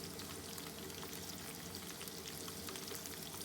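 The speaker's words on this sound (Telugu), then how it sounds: "దొండకాయలని ఇలా నాలుగు పక్కల టర్న్ చేస్తూ ఇలా ఫ్రై అవ్వాలి" Ivy gourds frying in oil in a pan for a curry, giving a steady, dense sizzle and crackle that holds evenly throughout at a quiet level, with no voices.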